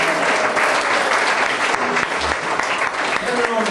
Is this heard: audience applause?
yes